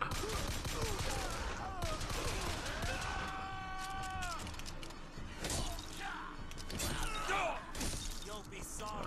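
Bursts of gunfire from the video game BioShock crackle through a busy game soundscape with music and voices, interrupted by sharp shattering impacts.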